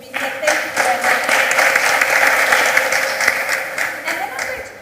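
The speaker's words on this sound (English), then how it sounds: "So let's give her a round of applause for being here." Audience applause for a speaker at a graduate employment and skills event, steady clapping that fills the room for several seconds before easing off slightly.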